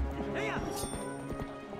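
Hooves of Epona the horse clattering with a brief whinny in Twilight Princess HD, game audio with music underneath while someone talks over it.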